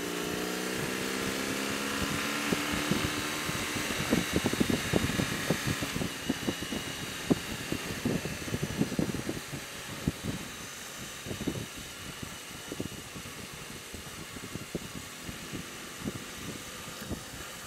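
A BMW R18 Transcontinental motorcycle engine pulls through a third-gear roll-on, its drone rising steadily under heavy wind rush. Scattered knocks and thumps come from the ride, and no one speaks.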